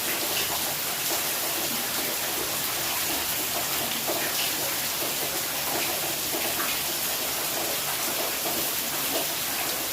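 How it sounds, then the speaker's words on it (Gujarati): Heavy rain falls steadily with water running along a village street, a dense, even wash of noise that holds constant throughout with no pauses and no voices. "વરસાદ આવ્યો અને આ શેરીમાં તો પાણી વયા જાય હો"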